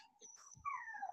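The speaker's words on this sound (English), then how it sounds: "Oh, the doggy wants to go outside, huh? You hear that?" A dog whines softly to be let outside, with thin, high, wavering whimpers close by but quiet, and no talk over them.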